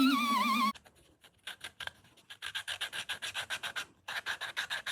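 Hand filing the barbs off plastic elbow fittings for a 1.5-inch pool hose snorkel on a Sportsman 450 ATV, a close run of rhythmic rasping strokes following a brief high tonal sound at the start.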